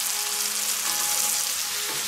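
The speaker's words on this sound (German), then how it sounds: "Solange ich das Fleisch hier am Brutzel." Chicken gyros meat sizzles steadily while frying, a dense, continuous crackle that stays close and even throughout with no talking over it.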